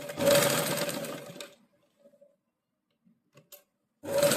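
An electric sewing machine stitching the back neck of a blouse whirs in a loud, close burst of about a second and a half, then goes quiet with faint clicks before a short second run.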